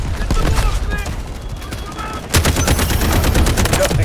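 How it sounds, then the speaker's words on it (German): Gunfire in the video game Delta Force Hawk Ops: scattered shots at first, then a sudden heavy burst of rapid automatic fire that keeps rattling, loud and close. "Dann müssen wir mal die Munition herschießen."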